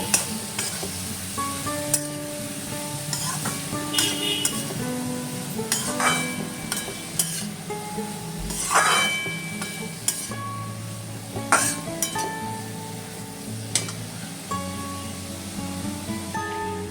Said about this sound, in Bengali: মশলার সাথে লাউটাকে সুন্দরভাবে মিক্স করব।